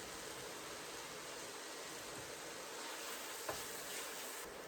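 Salted butter melts in a pot with a soft, steady sizzle, a quiet continuous hiss that runs throughout without talk.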